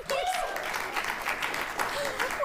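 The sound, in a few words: studio audience delayed clapping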